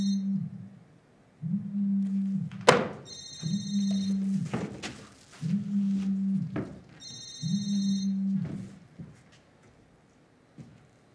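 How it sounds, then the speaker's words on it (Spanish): A telephone rings in repeated evenly spaced bursts, each a steady buzzing trill with bright bell overtones, interrupted by a few sharp knocks and thuds, in an otherwise quiet room. "Cuando ha sonado el teléfono"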